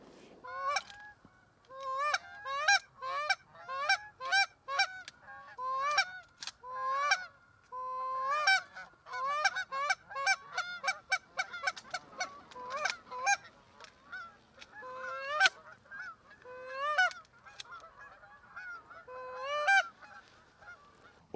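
A flock of geese honks repeatedly and excitedly while flying in, calls overlapping in quick bursts throughout, fairly close and loud with no talking, during a duck hunt in Nova Scotia.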